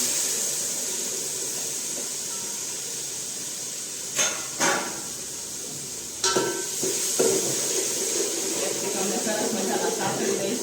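Capsicum and salt drop into hot oil, giving a steady sizzling hiss with a few sharp clatters and stirring knocks partway through.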